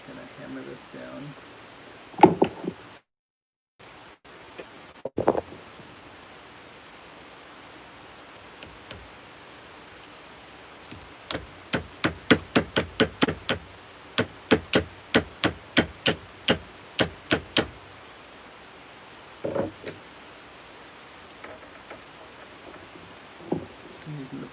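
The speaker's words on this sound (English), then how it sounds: "Hammer this down." A small metal ring is hammered into shape with sharp, rapid metallic taps in dense bursts, the strikes growing louder and quicker midway, separated by quieter handling noises and pauses.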